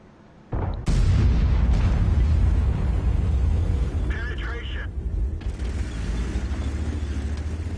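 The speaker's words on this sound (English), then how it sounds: "What has happened a moment ago is me taking a shot at a lightly armored tank parked in the bushes" An artillery SPG shell lands on a lightly armored tank hidden in bushes in World of Tanks: a sudden heavy blast after a quiet start, followed by a long loud rumbling roar with a brief metallic ringing midway.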